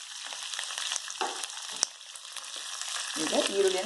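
Sliced onions for masala dosa sizzle steadily in a hot pan, a continuous close frying hiss with occasional stirring scrapes and clinks, and no talking.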